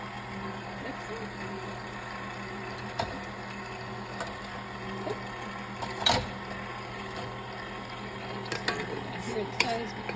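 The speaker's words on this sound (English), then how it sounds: "Let's just start to mixing it up. Turn it on." Electric mixer mixing herb bread dough with oil, a steady low motor hum with faint rattling and occasional clicks of the beaters against the bowl, moderately quiet and continuous.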